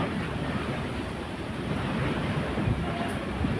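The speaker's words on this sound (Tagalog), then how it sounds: "Grabe hangin, no?" Steady roaring wind buffets the microphone, a continuous broadband rush with low rumbling gusts throughout, loud and close.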